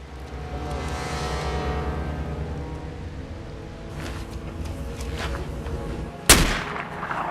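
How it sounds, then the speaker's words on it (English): One sharp, loud sniper rifle shot cracks out near the end, a film gunshot in an early-morning ambush on a patrol, sudden and close over a low rumbling background. "A shot broke the early morning quiet"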